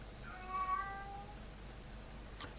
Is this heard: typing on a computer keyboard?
no